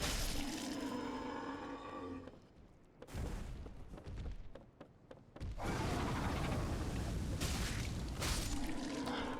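A loud explosion during a boss fight in the video game Dark Souls Remastered: a heavy booming roar that drops away briefly, returns with thumping bursts, then swells into a sustained rumble.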